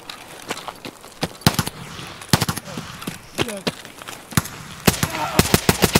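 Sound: gunfire from a rifle in the video game Escape from Tarkov

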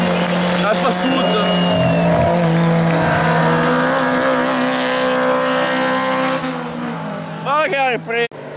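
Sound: Alfa Sud race car driving past at a hill climb race

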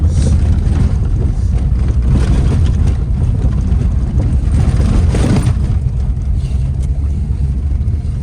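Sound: VAZ 21099 car driving through snow

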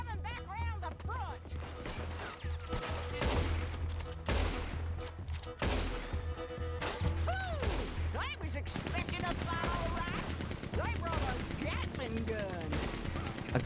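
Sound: Gatling gun firing in Red Dead Redemption 2 video game

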